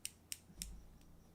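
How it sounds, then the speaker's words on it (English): Scissors handled on a workbench in an auto body prep shop, giving three sharp metallic clicks spaced about a quarter second apart, close and fairly quiet, followed by a faint low thump. "Scissors."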